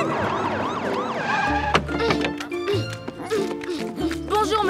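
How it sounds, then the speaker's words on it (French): Police car siren in a French children's cartoon, a loud wailing, swooping tone that rises and falls repeatedly over cartoon music and effects, close and prominent throughout. "Il a entendu la sirène!"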